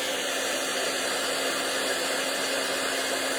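A heat tool used to melt embossing powder blows a loud, steady, unbroken roar with a whining hum, close and continuous throughout, with no talking.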